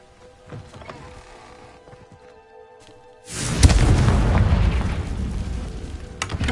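Confringo spell explosion in the wizarding game Hogwarts Legacy, a sudden loud blast after a quiet stretch, followed by a rumbling, crackling decay that lingers for several seconds.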